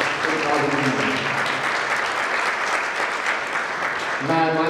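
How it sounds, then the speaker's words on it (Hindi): Audience in a hall at a medical conference gives loud, sustained applause, dense clapping throughout with a speaking voice audible briefly at the start and again near the end. "एक बार सभी जोरदार तालियों के साथ"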